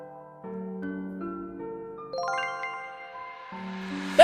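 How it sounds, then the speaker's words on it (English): A ringing chime plays in the video game OneShot, a soft sequence of bell-like tones stepping upward and sustaining, ending with a bright rising sparkle, clear and alone without talk. "That ringing sound."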